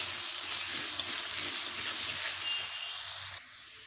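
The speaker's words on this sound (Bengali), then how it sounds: "আলুগুলোকে ভালোভাবে ভেজে নেব।" Potatoes seasoned with turmeric and salt fry in hot oil for a ridge gourd and poppy seed dish, giving a steady, dense sizzle that fills the whole stretch and eases slightly near the end, with no talk.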